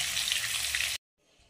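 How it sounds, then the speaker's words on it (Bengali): Chicken leg pieces frying in hot oil give a steady, close sizzle for about a second before cutting off abruptly, followed by faint low background noise. "তো এটা ভাজা হোক, তারপরে তোমাদেরকে ফাইনাল লুকটা আমি দেখাবো।"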